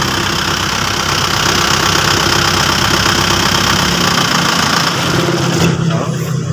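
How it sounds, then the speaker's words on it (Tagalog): An Isuzu Hilander engine idles loudly and steadily with a seized crankshaft pulley. Its dense, even drone holds throughout, and the low-end rhythm thins slightly toward the end while a voice speaks briefly. "Pero naka-andar yung makina."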